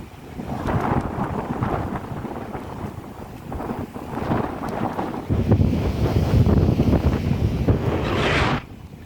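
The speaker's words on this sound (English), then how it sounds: "right in the face with the wind and the rain" Strong wind and driving rain lash the coastal cliffs at Loch Ard Gorge, a loud, continuous roar of gusts buffeting the microphone with rumbling surges throughout, no voices.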